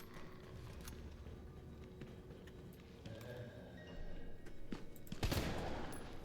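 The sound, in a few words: gunfire from the video game Resident Evil 3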